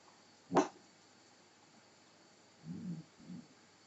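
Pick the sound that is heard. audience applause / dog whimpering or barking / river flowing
dog whimpering or barking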